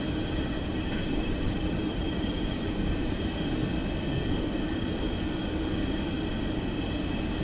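A FlyJSim 732 TwinJet taxis after landing at San Francisco in X-Plane 11, its jet engines giving a steady, loud whine and rumble that holds unbroken throughout, with no talk.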